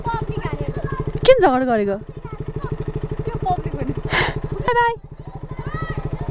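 A motorcycle engine idles with a rough, uneven, unpleasant pulsing close by while people talk over it loudly.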